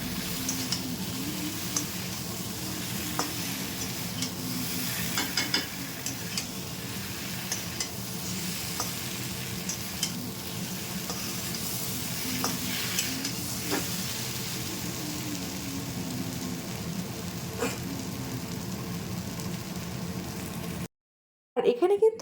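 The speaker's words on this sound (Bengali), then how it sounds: "আমার সজনে ডাঁটাগুলির সাথে সর্ষে পোস্তটিকে খুব ভালো করে ভেজে নেওয়া হয়ে গেছে" Drumsticks fry with mustard-poppy seed paste in a steady, even sizzle throughout, marked by occasional faint ticks and taps of stirring, then a brief silence and a short clatter at the very end.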